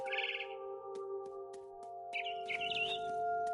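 Birds chirp in the video game What Remains of Edith Finch, bursts of quick high tweets at the start and again later over a sustained tonal music drone with sparse soft clicks.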